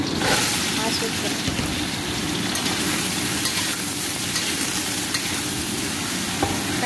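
Spices and onion hitting a hot pan, a loud dense sizzle that swells at first and keeps crackling steadily, with stirring and a voice talking underneath.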